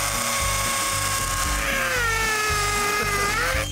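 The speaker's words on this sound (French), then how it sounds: "Bonne perceuse à percussion." A hammer drill bores into a concrete foundation wall with a loud, continuous rhythmic hammering whine that shifts in pitch partway through, close and uninterrupted.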